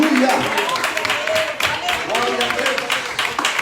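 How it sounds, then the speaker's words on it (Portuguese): Church congregation clapping in praise, a dense, steady patter of many hands filling the room beneath a speaking voice. "Com alegria, bate palma e louva o Senhor."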